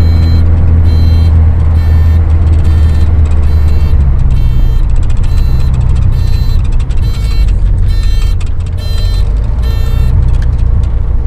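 A dashboard buzzer in a Simca Fiat 11 CV Ardita beeps at a steady rhythm, about one pulse per second, sharp and clear above the loud, constant drone of the running car.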